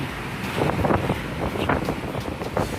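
Strong wind gusts across Karon beach in Phuket, with surf behind them, roaring steadily and close to the microphone in buffeting bursts for a few seconds.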